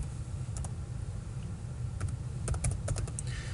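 Computer keyboard keys tapped to enter a mkdir command, a few quick isolated clicks and then a short burst of keystrokes over a low steady hum.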